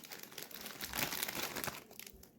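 Crinkling plastic snack bag being opened, an inner bag inside a cheese-flavoured snack pack, giving a close, continuous crackle and rustle with sharp crinkles throughout.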